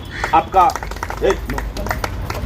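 A crowd claps in scattered bursts at a Dalit protest rally in Delhi, the claps sounding under a loud, near voice that speaks throughout.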